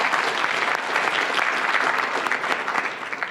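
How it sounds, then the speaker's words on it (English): Loud, continuous applause from the crowd at the 2025 Brookhaven Lab Research SLAM competition, given to the contestants. Many hands clap steadily and thickly throughout with no break. "Let's have a round of applause for all of our contestants one more time"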